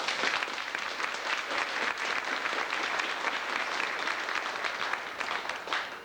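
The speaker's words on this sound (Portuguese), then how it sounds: "Pedir também uma salva de palmas para eles" Sustained applause from a large audience at a Rádio Legendária event, dense steady clapping filling the whole stretch at an even loudness with no voices over it.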